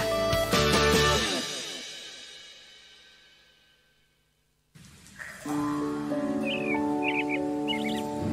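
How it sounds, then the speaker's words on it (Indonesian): Morning birds chirping, a few short bright tweets and trills after a fading musical chime, set against a steady tonal background hum. "Pagi-pagi memang seneng banget dengar kicauan burung."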